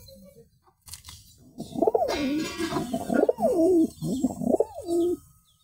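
Free-living pigeons cooing while they feed, a run of close, rolling coos repeated several times in quick succession, with no one talking.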